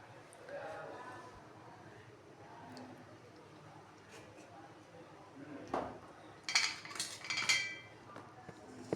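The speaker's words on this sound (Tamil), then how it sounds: "ஒரு சட்டி வைங்க." A metal cooking pan is set on a stove while mango gravy is being made, giving a few clanks and clinks late in the moment, and someone talks throughout.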